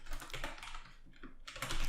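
Rapid typing on a computer keyboard while entering code, a steady patter of close, crisp key clicks with brief pauses, no voices.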